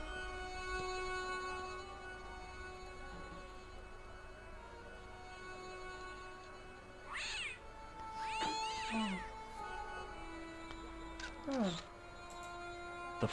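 Game cat in Broken Sword: The Shadow of the Templars lets out several drawn-out meows, one rising and falling call followed by shorter cries, over a steady music drone.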